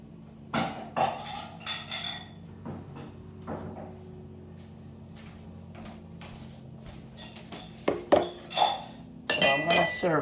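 Crystal bowl and utensils clink and clatter as quinoa and turmeric soup is ladled in, with several sharp close clinks spread through the stretch and a brighter cluster of ringing knocks near the end; no one speaks.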